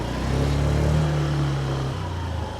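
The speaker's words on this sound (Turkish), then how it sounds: "Biraz hızlanayım" A Honda Dio scooter is being ridden on a brake test. Its small engine whines nearby, holding its pitch through a short pull and then dropping slightly as it eases off. No voices.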